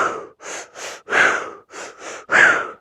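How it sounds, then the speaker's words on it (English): Rhythmic breathing during a breath-work session at a healing workshop, seven close, strong inhale and exhale bursts in quick succession, some sharper and gasping, with no talk. "Man, just breathing."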